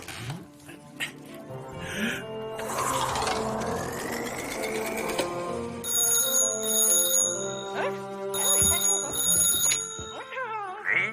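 A telephone rings loudly with repeated electronic tones, sounding among other bright tonal layers and some background activity.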